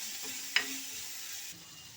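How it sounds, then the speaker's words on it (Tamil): Neem flowers sautéed with rock salt in a pan give a soft, steady sizzle with one sharp clink of a spoon against the metal, fairly quiet and with no talk. "கல் உப்பும் போட்டுக்கிறோம் நல்லா இதை வதக்கிறோம்"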